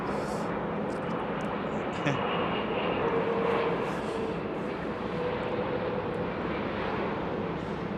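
A British Airways Boeing 787 on approach at Heathrow in fog gives a steady, distant jet engine roar, a continuous broad drone with a faint whining tone, and no speech.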